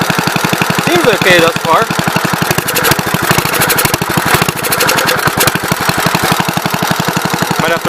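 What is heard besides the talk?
1970 Gravely commercial 8 tractor engine running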